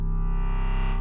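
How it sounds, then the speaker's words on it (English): A FORM synthesizer in unison mode plays a duplicated, detuned voice, a thick sustained tone with a gentle beating wobble, loud and solo for about a second. "Then we've got unison, and it will basically make a duplicate and detune it."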